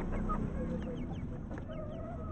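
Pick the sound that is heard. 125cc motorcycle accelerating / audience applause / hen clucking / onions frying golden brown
hen clucking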